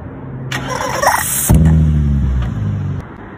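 A Nissan 350Z with rubber chicken heads fitted on the exhaust is started: the starter whirs, then the engine catches with a loud, close burst and settles into a rough idle, with squeaky honking tones riding on top before it cuts off.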